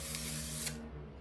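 A short hiss of an aerosol sunscreen spray, faint and close, lasting under a second before cutting off into quiet room tone.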